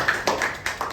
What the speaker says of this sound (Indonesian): yuk kita berdiri bersama-sama berikan tepuk tangan buat Tuhan yang luar biasa.